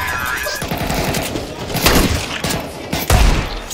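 Gunfire rings out on the Nuke map of a shooter game as rapid bursts of close, loud shots, with heavier cracks near the end.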